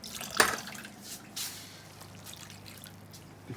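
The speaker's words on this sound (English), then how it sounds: "We're also adding some water." Water poured into a pan of gravy for mashed potatoes, a brief splash and drip near the start followed by a few faint trickles and clinks, with no talk.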